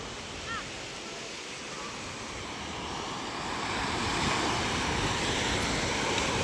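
Steady wash of sea waves with wind noise at a fish terminal in Tanza, Cavite, swelling slightly louder toward the end, with no one speaking.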